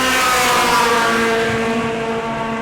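Robbie Yoakum's number 8 mod race car at New Smyrna, its engine roaring loud and steady as it passes close, a sustained droning tone that eases slightly at the end.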